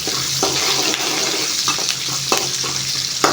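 Onions and green chillies frying in a pan, with a steady bright sizzle and occasional stirring scrapes close up, with no talking.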